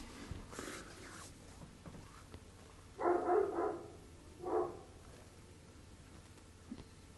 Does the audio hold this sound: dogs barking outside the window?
yes